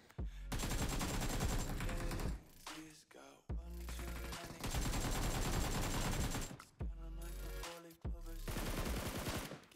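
Gunfire in PUBG Mobile on the Nusa map comes in loud, dense automatic bursts, several long volleys broken by short gaps, close and punchy.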